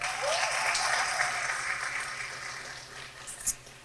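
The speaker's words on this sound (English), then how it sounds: "let's give them one big round of applause" A school audience applauds at the renaming and dedication ceremony for Cradock Elementary School. The clapping is full and sustained, then thins out and fades, ending with a single sharp knock.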